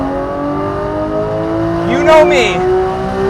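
A 991-generation Porsche 911 GT3 with a naturally aspirated engine, its steady running note rising into a brief rev partway through, loud and close, with someone speaking over it.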